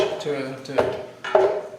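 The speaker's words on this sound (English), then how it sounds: "So just put some bananas in there, one at a time." Frozen bananas drop one at a time into a blender in a kitchen in Vilcabamba, Ecuador, making two or three sharp, hard knocks against the container, close by, with some voice underneath.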